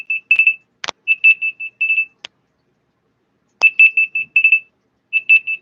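A Huawei phone ringtone plays alone in short repeated bursts of bright tonal beeps, separated by gaps and a few sharp clicks, close and loud.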